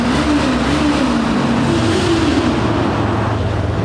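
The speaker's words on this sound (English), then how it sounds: "This bike sounds great." A motorcycle engine revs with a steady, loud rumble that fills the whole clip, its low pitch rising and settling slightly, with no talking over it.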